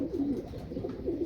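A racing pigeon coos softly in a loft, a low, muffled burbling that repeats in gentle pulses across the short moment.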